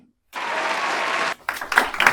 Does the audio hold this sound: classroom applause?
yes